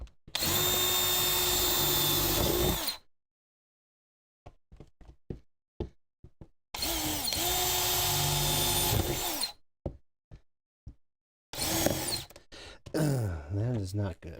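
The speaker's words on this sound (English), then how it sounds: "Yeah, that drill bit is dead." Power drill running in two sustained bursts while installing AC in a Chevrolet Impala project car, with knocks and tool handling in the pauses and a short whir at the end.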